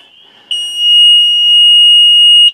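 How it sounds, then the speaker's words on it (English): A loud, steady electronic warning buzzer on a Case IH 9130 tractor sounds alone, a single continuous high-pitched tone lasting about two seconds before cutting off abruptly. "That's the warning buzzer."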